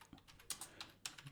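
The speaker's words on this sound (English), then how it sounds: "So you would go on your search bar and just type in crypto" Faint computer keyboard typing into a search bar, a few soft clustered key clicks with short pauses, close and quiet with no voices.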